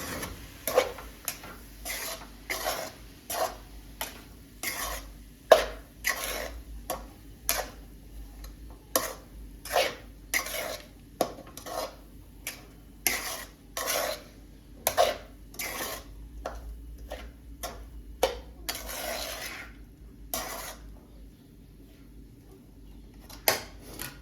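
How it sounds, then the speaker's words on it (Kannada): Rapid, regular clicking taps of a utensil against a bowl while street food ingredients are mixed with vinegar, a steady beat of sharp knocks with brief pauses near the end. "ಇವಾಗ ಇದನ್ನ ಮಿಕ್ಸ್ ಮಾಡ್ಕೊಳ್ಳೋಣ."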